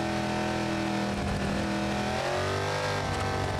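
A drag car engine in the BeamNG.drive driving game revs loud and continuously, its pitch dipping and climbing again as the throttle shifts, with no break in the roar.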